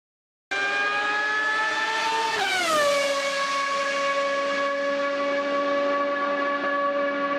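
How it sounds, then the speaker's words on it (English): A Formula 1 race car passes by, its loud whining engine tone sliding sharply down in pitch as it goes past, then holding steady at a lower pitch, with no talking. "an important acoustic effect can impact the sense of speed of a car, the well-known Doppler effect."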